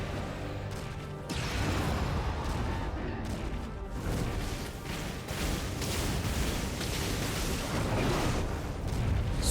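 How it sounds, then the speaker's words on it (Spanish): Dense, rumbling explosions and booming blasts roll on continuously through a battle between Ifrit and Bahamut in Final Fantasy XVI, loud and sustained with no speech. "Explosión de Laura"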